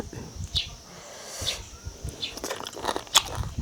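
Crunchy chewing of crispy meat, with wet crackling bites and munching at close range, mixed with faint background noise and brief murmured sounds.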